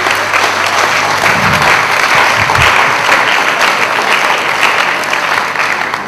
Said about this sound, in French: je voudrais nous demander une fois de plus de nous applaudir